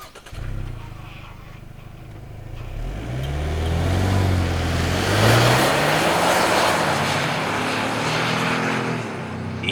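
A 2025 Ford Maverick Tremor with its 2-liter EcoBoost engine pulls away and accelerates, the engine note climbing in pitch and growing louder and steadier as it builds speed, with no voices over it.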